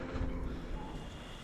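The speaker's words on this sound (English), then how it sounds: "Is there any better noise to fall asleep to than the sound of a flowing river?" A river flows past a lush forest campsite, making a steady, even rush of water that fills the whole moment at close range with no pauses.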